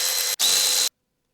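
Power tool, likely a drill or driver, whirring on T30 Torx bolts holding the high pressure fuel pump of a BMW N43 engine: two short close bursts with a brief break, then silence.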